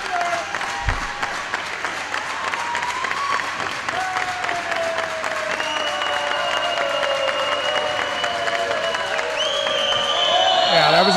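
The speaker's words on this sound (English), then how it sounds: "the crowd noise has increased considerably here for this women's game" A crowd at a women's team handball championship game claps and cheers continuously and builds louder toward the end, with a commentator talking over the noise.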